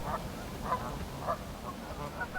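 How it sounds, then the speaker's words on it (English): Canada geese outdoors by a river weir in early spring, giving a series of faint, distant honking calls at roughly even intervals over steady background noise. "These Canada geese, well, they're probably local."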